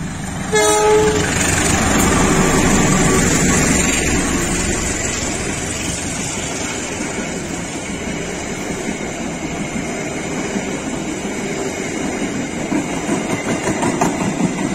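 A train horn sounds briefly at the start, then the Serayu passenger train roars loudly past through an Indonesian station with rhythmic wheel clatter that slowly eases but continues.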